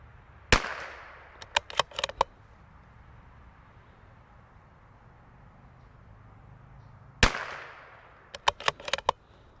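Shots from a CZ 457 .22LR rifle fired outdoors, two sharp loud cracks each followed by a quick cluster of smaller snapping pops, separated by several seconds of steady background hiss.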